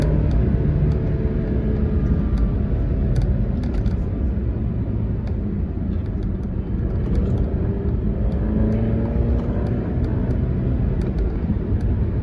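A 2017 Alfa Romeo Giulia fitted with a GAN GT tuning chip accelerates, heard from inside as a steady low engine rumble with rising tones under loud road and cabin noise.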